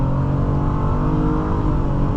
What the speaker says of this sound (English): But this time we are going to punch it hard.